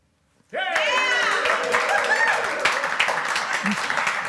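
A studio audience at a live community event in Chilliwack breaks into sudden applause, close and lively, with cheers and whoops mixed into the clapping for several seconds.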